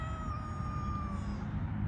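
A cat meows in a single long, drawn-out plaintive cry that holds steadily for nearly two seconds, fairly close over a low background rumble.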